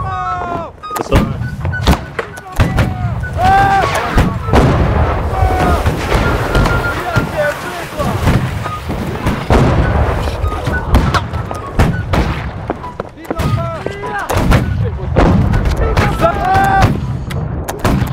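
Musket volleys crash out in the Napoleonic-era battle game Holdfast, a dense run of sharp, loud cracks and booming reports, some ragged and some in bunches, while voices talk over the fighting throughout.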